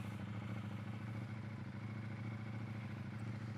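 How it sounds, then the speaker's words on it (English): A 2022 KTM 890 Duke motorcycle fitted with a tail tidy runs steadily at idle, a continuous low rumbling drone with even mechanical clatter and no talking. "Good sounding bike."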